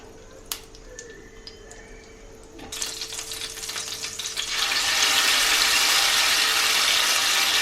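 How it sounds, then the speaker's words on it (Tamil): Marinated chicken pieces dropped into melted butter in a pan, a few clinks and light sizzles at first, then hissing frying that swells into a loud, steady sizzle. "பட்டர் சேர்த்துட்டு நம்ம ஆல்ரெடி நம்ம வந்து மேரினேட் பண்ணி வச்சுருக்கிற சிக்கன் பீஸை இதில் வந்து நம்ம சேர்க்க போகிறோம்"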